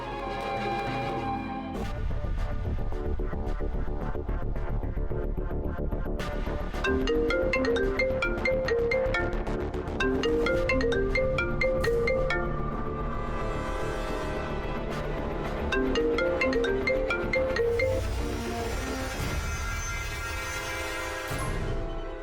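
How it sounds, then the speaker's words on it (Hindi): A melodic phone ringtone plays loud and close, repeating its bright electronic tune for about twenty seconds with no talking. "आप फोन लगाइए नरेन को।"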